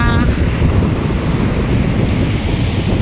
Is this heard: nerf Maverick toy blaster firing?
no